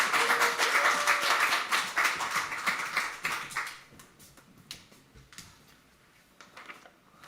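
A church congregation at a Sunday worship service breaks into a big round of applause, loud and dense at first, then thinning out into scattered claps and fading away.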